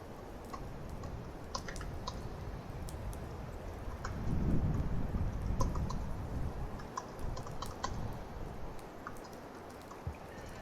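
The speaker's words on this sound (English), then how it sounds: "I'm just going to do a wee bit of typing because I find it difficult to type and talk" Touch typing on a computer keyboard, soft irregular key clicks in quick bursts under a low steady background hum, faint and close.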